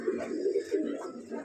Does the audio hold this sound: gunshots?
no